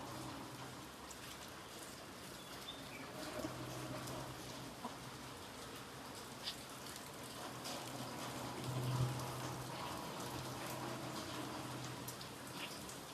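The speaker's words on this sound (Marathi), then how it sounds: "अजून बी पाऊस चालू आहे बघा" Steady rain falling outdoors, a soft even hiss of drops hitting surfaces that continues without pause, quiet and distant, with no voices.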